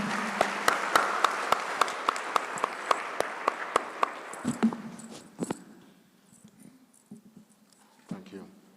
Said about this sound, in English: Please join me in giving them a round of applause for being on this panel.